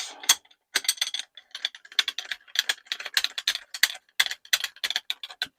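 A ratchet tightens a nut on the barrel band of a Hatsan Hydra air rifle. Bursts of rapid, close clicking come in quick repeated strokes with short pauses between them, and no voices are heard.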